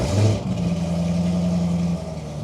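A Chevrolet Corvette C6 ZR1 engine revs on a Sunday morning drive, a loud burst of throttle followed by a steady deep rumble, close and alone.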